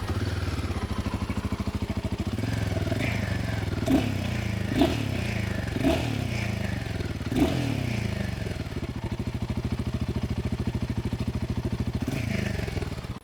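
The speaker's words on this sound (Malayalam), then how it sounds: "ഇതിൻ്റെ എക്സോസ്റ്റ് നോട്ടൊന്ന് നമുക്ക് കേൾക്കാം." Royal Enfield Himalayan 450 motorcycle with a short silencer and short-stroke engine, idling steadily up close, then blipped through several sharp revs that rise and fall in quick succession before settling back to a low, even idle.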